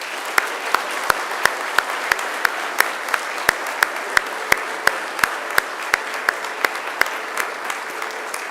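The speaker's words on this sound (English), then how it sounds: "And now I invite you to give them a mighty round of applause" Graduates at a Macquarie University graduation ceremony applaud their families and friends, a steady patter of clapping from a large hall with a few louder, sharper claps standing out near the front.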